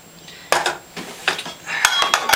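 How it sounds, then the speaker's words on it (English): A spoon stirs soup in a pot with a vented lid nearby, giving several clinking metal scrapes in short bursts, close and fairly loud, with no talk. "One last stir."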